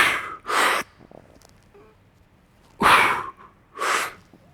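Several sharp, forceful breaths in and out while bracing for a strict overhead press: four loud bursts of air, two close together, then a pause, then two more.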